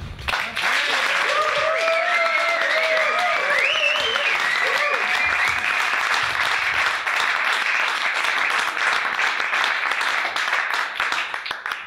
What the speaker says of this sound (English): I think you should give the biggest round of applause for Mr. Onno Bakker.